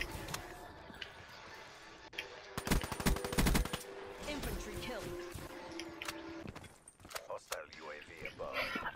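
Rapid bursts of automatic gunfire from a 50-round weapon in a Black Ops 3 team deathmatch, loud and dense for about a second, with scattered shots and game effects around them.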